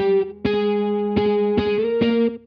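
Distorted electric guitar plays a short lead line in octaves with a few picked, sustained notes in a steady rhythm, loud and close, without voices.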